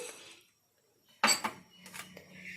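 A spoon clinks and scrapes against a pan while cloves, black peppercorns and carom seeds are dry-roasted over a very low flame, a few sharp metallic strikes after a brief quiet, then softer rattling.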